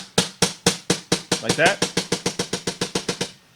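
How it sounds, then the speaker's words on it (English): A fingertip taps the soundboard of an acoustic guitar as a snare-like percussion hit, a fast even run of about twenty sharp dry knocks, close and clear, with a brief spoken word in the middle. "Take your pointer or your middle finger, however rude you're feeling that day, and hit the soundboard of your guitar."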